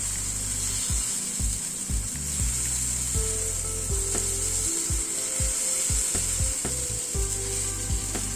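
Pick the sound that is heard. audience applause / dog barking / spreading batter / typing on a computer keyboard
spreading batter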